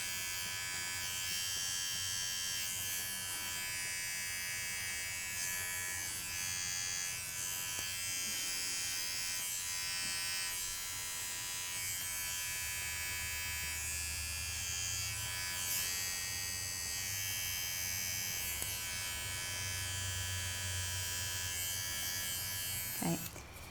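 Electric clippers buzz continuously as they trim hair from a Bichon Frisé's paw pads, a steady close-up hum with brief shifts in pitch as the blade meets the fur, no voices.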